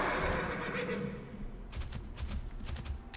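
A horse mount whinnies in World of Warcraft, a loud drawn-out neigh fading over about a second and a half, followed by several quick hoof clops, with someone speaking lightly underneath.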